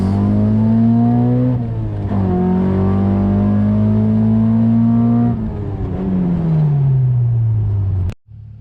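A Honda Civic EK hatch with an H22 engine on VTEC and nitrous pulls hard through the gears, a loud, close engine wail climbing steadily with brief dips at each shift before cutting off abruptly near the end.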